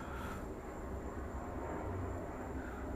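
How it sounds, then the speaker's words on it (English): Steady broadband rumble of a fixed-wing airplane passing overhead, a continuous drone holding at constant loudness throughout, with no talk over it. "Plane going over, y'all."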